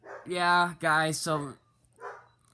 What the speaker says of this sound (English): Sorry about my dumb dog in the background.